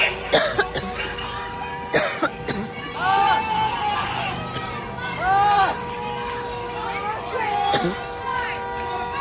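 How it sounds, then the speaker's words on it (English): Several short coughs from a woman sound in the background amid a murmur of voices and chatter at a protest, with some louder bursts scattered across the scene. "I can hear her in the background coughing"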